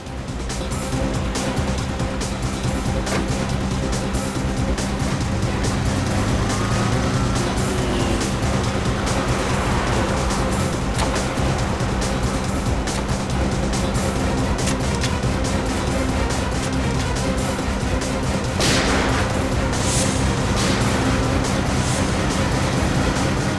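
A car racing toward a highway in a police chase, heard as a steady, loud roar of engine and road noise that continues without a break for over twenty seconds, with no talking.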